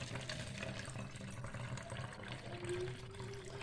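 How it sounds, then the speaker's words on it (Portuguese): Water pours into a large spray bottle holding alcohol and fabric softener for a homemade air freshener, a soft continuous filling trickle whose pitch rises slightly as the bottle fills, faint and close. "E vamos completar agora com água."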